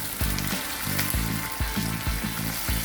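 Tomatoes and curry leaves fry loudly in a pan, a dense close sizzle with a regular rhythm of spatula strokes scraping and tossing the mixture about every half second.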